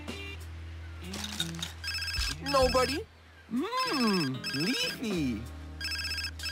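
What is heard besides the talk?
phone ringing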